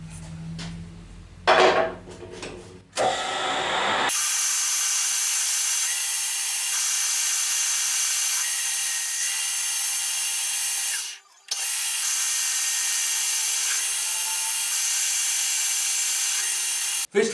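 A metal lathe cuts down a section of a slitting saw arbor for threading, a steady high-pitched machining whine running for long stretches, with one short break, after a few clunky knocks at the start.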